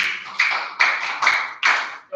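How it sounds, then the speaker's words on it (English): Brief scattered clapping for contestants at a maths quiz competition, four short bursts of handclaps that swell and fade over a couple of seconds, fairly close and with no talk. "Round of applause for them."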